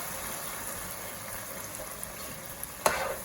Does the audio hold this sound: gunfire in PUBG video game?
no